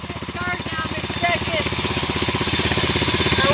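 A vehicle engine running slowly in third gear, a low rhythmic chugging that grows louder and steadier, with voices speaking over it.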